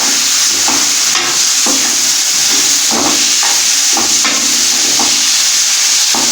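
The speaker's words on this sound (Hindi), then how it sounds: "तकरीबन 4 से 5 मिनट तक इसे अच्छी तरह से बीच में भूनेंगे ताकि गोभी हमारी ऑयल छोड़ दे" Cauliflower pieces with tomatoes and spices are stir-fried in a pan: a loud, close, continuous sizzle with regular scraping strokes of a spatula throughout.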